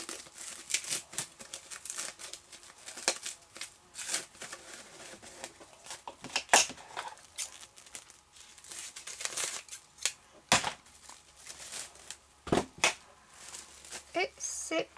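Paper being handled and crumpled close by in a run of uneven crinkles, rustles and sharp crackles, with a person talking now and then.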